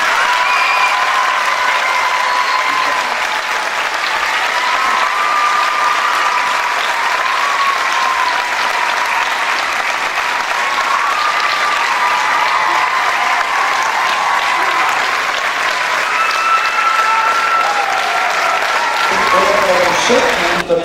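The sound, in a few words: audience applause for folk ensemble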